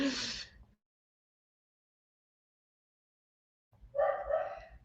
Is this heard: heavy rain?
no